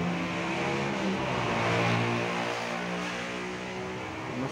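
A freshly overhauled 2018 Toyota Xenia 1.3 dual VVT-i engine idles steadily up close, a continuous loud mechanical hum with even harmonic drone throughout.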